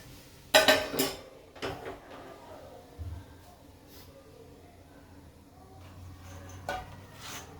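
Cooked safflower leaf vegetable is taken out of a pan in a home kitchen, giving a few close metallic scrapes and clinks of a utensil against the pan, then quieter handling, while someone talks.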